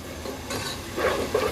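Onions and whole spices frying in a pan, a close soft sizzle with stirring scrapes of a spoon over a short stretch.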